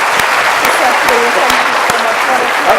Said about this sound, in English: Please, let's give a warm round of applause to Sadhguru.